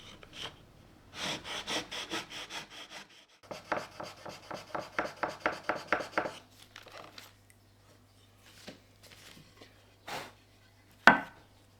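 Gentle hand sanding of a wood piece for DIY wood art, quick rhythmic rasping strokes up close in two bursts, then a few scattered scrapes and a sharp knock.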